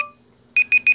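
A Google Pixel phone timer alarm ringing, a short tone fading out, then three quick bright electronic beeps in a rapid even pattern, close and clear with no talking.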